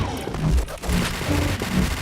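Dense bursts of gunfire in the online shooter Point Blank rattle continuously, loud and close, with rapid overlapping shots filling the whole moment.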